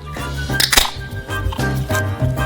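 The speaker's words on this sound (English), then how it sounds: "We open a can of beer" A can of beer is cracked open in a kitchen while ribs are prepared, giving a sharp pop and short hiss at close range with no talking.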